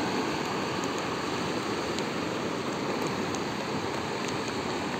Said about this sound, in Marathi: गेल्या 3 दिवसापासून हा पाऊस पडतो त्यामुळे हे सगळं होतं आहे।